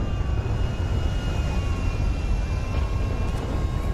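An airplane caught in a tornado in GTA 5, a steady, loud, dense roar of engine and wind running unbroken throughout.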